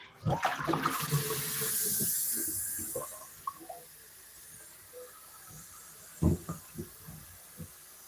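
A saucepan is washed in a kitchen sink, with running water hissing and splashing, then scattered clunks and knocks of the pot against the basin.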